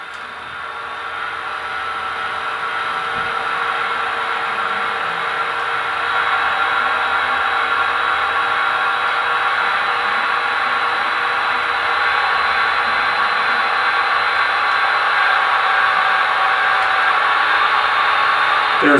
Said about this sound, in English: I'm going to go ahead and spool up the RPMs manually so you can hear the different levels.